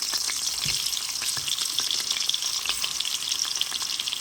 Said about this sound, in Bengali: আলুটা জাস্ট একটু হালকা ভাজি করি